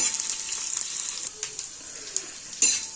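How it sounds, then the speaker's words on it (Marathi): Chopped onion sautéing in a pan on a flat griddle, a steady bright sizzle running throughout with a few soft clicks of stirring, close and alone. "कांदा थोडासा परतून घेऊया"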